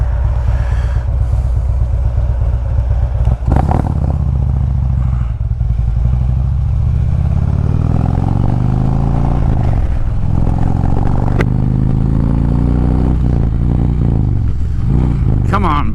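A motorcycle rides along a road, its engine loud and close throughout, pitch climbing and dropping as it accelerates and shifts, with wind rush and occasional clatter over the steady drone.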